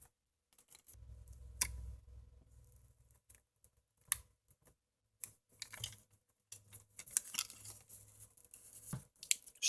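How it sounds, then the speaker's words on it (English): Transparent packing tape is pulled and pressed onto a power supply casing during a repair: intermittent crackling tears, short squeaky pulls and small taps and rubs, close and fairly quiet, with pauses between bursts. "I'm going to put in some of this transparent packing tape here."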